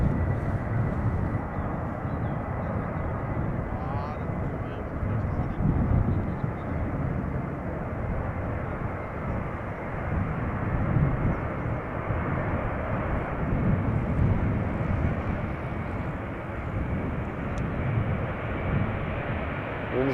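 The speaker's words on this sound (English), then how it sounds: "And lined up in the distance is Delta Airlines Flight 47, going to go to New York JFK in a moment. Airbus A330" A 20-year-old Delta Airlines Airbus A330 lined up for departure at Schiphol Airport gives off a steady, distant jet engine roar, mixed with rumbling wind buffeting.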